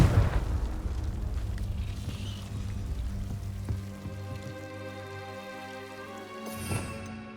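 A Confringo spell blast in Hogwarts Legacy: a broad explosive rumble at the start that decays into a long ringing, humming tail, with a second softer burst near the end.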